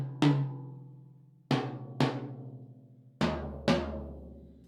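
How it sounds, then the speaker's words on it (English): Five separate drum hits spaced a second or so apart, each ringing briefly with a low tone before fading quickly; close and fairly quiet, no talking. "you can hear a little bit of ring from each drum, but it dies away fairly fast"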